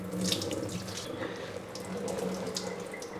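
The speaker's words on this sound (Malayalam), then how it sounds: "വെള്ളം ഒന്ന് ഊറ്റിക്കളയട്ടെ" Water from washed fish being drained off, running steadily into a sink, a continuous splashing gush from a close source with no talking.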